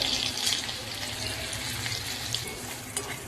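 Water poured into a hot kadhai holding red chutney, salt and turmeric for a gram-flour vegetable dish, a steady close splashing and gushing wash lasting a few seconds with no talk.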